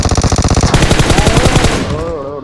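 Rapid automatic gunfire from PUBG gameplay rattles out in a loud, steady burst, then tails off as a few bright tonal sounds and scattered game noises take over near the end.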